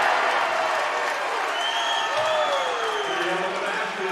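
A high school basketball crowd in a gym cheers and claps after a two-handed dunk in a Speedway vs Monrovia game, a moderate roar with a whistle-like tone rising through it, partly under a commentator's voice.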